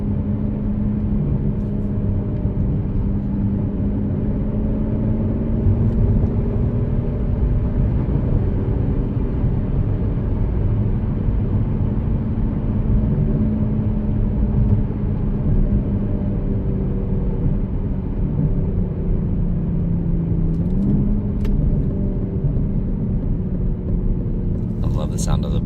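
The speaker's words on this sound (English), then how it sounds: "The exhaust notes are just perfect though." Steady engine and exhaust drone from a 2017 Aston Martin DB11 while driving, heard from inside the car as a continuous low rumble with a constant level throughout.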